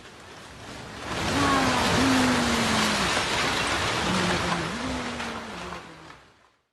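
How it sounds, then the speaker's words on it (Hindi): Heavy, continuous rain pours down in a dense, loud hiss that swells in and then fades away at the end, with a faint wavering tone underneath. "लगातार बारिश जारी थी।"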